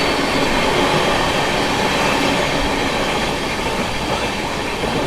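The 12393 Sampoorna Kranti Express runs fast on the rails, giving a loud, steady rumble with rattling wheel clatter that holds without a break throughout.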